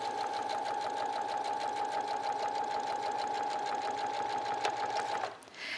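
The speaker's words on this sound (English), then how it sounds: "I'm going to lift the presser foot, pivot around, and finish sewing." A sewing machine stitching a seam on a garment at an underarm gusset, a steady fast mechanical hum and rapid needle chatter running evenly for about five seconds before stopping, close up.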